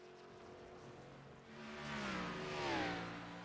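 Race car engines in the iRacing sim at Road America, a harmonic engine drone that swells and rises in pitch as the cars accelerate, loudest near the end, with no talk.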